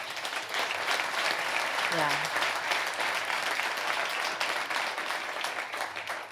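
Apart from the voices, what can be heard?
applause to welcome newcomers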